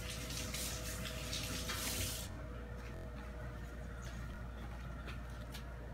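Water runs from a kitchen tap into a cup with a steady hiss that stops abruptly after about two seconds, leaving quieter room noise behind.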